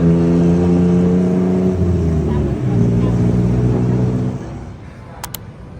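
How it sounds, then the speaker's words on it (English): A tuk tuk engine drones steadily while riding through Bangkok traffic, a loud close motor with harmonic hum that eases off near the end, followed by a brief faint click. "we were finally able to flag down a tuk tuk to get us home"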